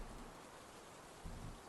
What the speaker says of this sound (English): Okay, the rain started.